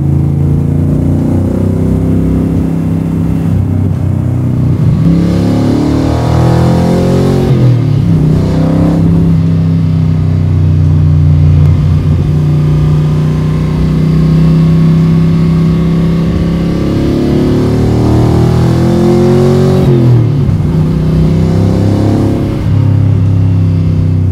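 The 7.3L Godzilla V8 in a Shelby Cobra MkIIIR, loud and close, rising in pitch through two strong revving pulls with a deep rumble between them and no talk over it.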